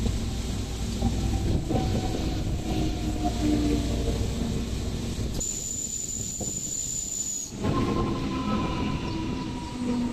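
A Hyderabad MMTS local train arrives at platform 1, a loud rumbling roll of wheels and carriages with a steady high-pitched whistling tone and hiss partway through, close by, without talk.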